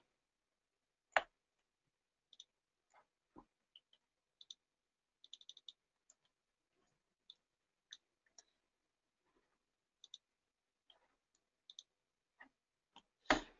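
Computer mouse clicks while navigating QNAP Storage Manager software, heard as sparse, sharp, close clicks, some single and some in quick clusters, spread irregularly over a quiet background.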